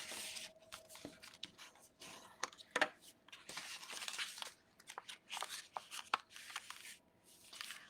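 Origami paper is folded up close, giving soft, quiet crinkles, creases and rustles in irregular bursts, with a few sharper snaps.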